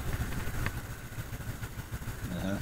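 Motorcycle ridden through an industrial zone in Puebla, passing over a speed bump, with a steady mid-pitched engine drone and a few low clattering thumps from the suspension, loud and close throughout.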